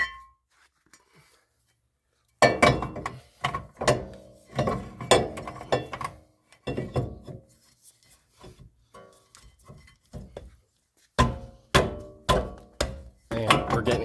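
Flathead screwdriver working the drum brake shoe adjuster on a 1995 Nissan Skyline GTS-T, giving repeated close metallic scraping and rasping strokes in bursts with short thunks and pauses.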